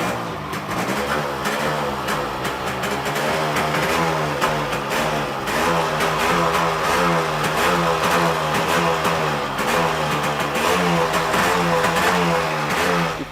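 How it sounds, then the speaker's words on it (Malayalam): A Yamaha RXZ two-stroke motorcycle being started and revved in a vintage bike garage, its engine running close and loud with a continuous buzzing drone and rhythmic throttle blips rising and falling throughout, with no talking. "RXZ സ്റ്റാർട്ട് ചെയ്ത് കൊടുക്കുന്ന സായി"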